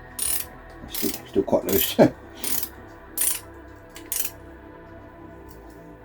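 A torque wrench clicks and ratchets in short bursts while tightening bolts on a Reliant Supervan engine short block, several close metallic clicks spaced irregularly, with a brief spoken remark between them.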